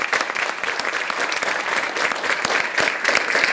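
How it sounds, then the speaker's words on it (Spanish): Sustained applause from a lecture audience at a networking conference, a dense patter of many hands clapping close by for a few seconds with no voices over it. "Bueno, pido un fuerte aplauso."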